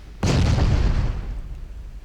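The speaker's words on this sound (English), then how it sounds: "He's launched torpedoes." A single sudden torpedo explosion in the naval warfare game Ultimate Admiral Dreadnoughts, a loud close boom that hits sharply and then rumbles and fades over about two seconds.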